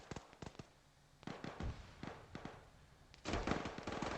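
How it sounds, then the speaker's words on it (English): Grenade blasts and gunfire in the video game Arma 3 during a large player-versus-player battle: a string of sharp cracks and booms, with a louder cluster of blasts near the end. "Ooh, another grenade."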